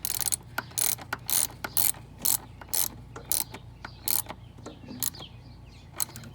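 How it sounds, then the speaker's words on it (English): A ratchet turning a 10mm socket tightens the idle air control valve on a 1996 Ford Explorer 4.0 V6, giving a dozen or so quick, sharp clicking strokes close by with short pauses between them. "Get your 10mm socket. Tighten it up, not too tight."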